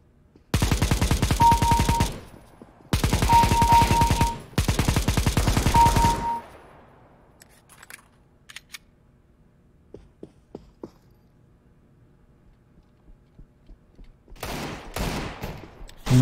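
A Negev machine gun fires in CS:GO in three long, loud sustained bursts separated by short pauses, followed by quieter scattered game noises and another rattle of fire near the end.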